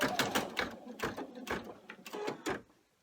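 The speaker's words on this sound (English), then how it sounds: "return it to the machine, and we will be running the stipple stitching if you're choosing to do that step" An embroidery machine runs stipple stitching on a fabric coin pouch, giving a quick, rhythmic mechanical chatter of needle strokes heard close up for about three seconds before it stops.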